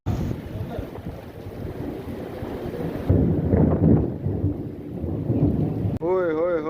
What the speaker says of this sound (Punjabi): ਬਾਰਿਸ਼ ਆਈ ਹੋਈ ਹੈ ਤੇ ਬਹੁਤ ਜ਼ਬਰਦਸਤ ਕਿਸਮ ਦਾ